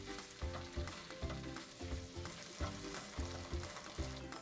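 Shallots and tomato paste sizzle in butter over medium heat for a vodka pasta sauce, a steady close frying crackle with periodic stirring scrapes recurring in a loose rhythm.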